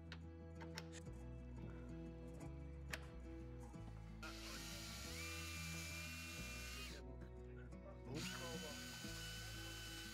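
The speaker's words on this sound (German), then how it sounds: "Bohren Sie hier unbedingt vor." A power drill whirs in steady bursts while pre-drilling during assembly of a Karibu Hytti 3 garden sauna, starting and stopping, with a mechanical ratcheting clatter and background music.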